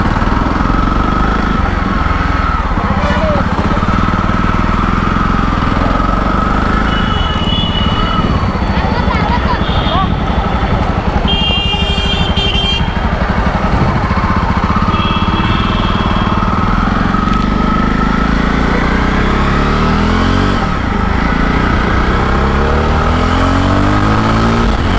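A Jawa Perak motorcycle engine runs loud and continuous while riding, a steady drone that swells and eases, with wind noise and a voice talking over it.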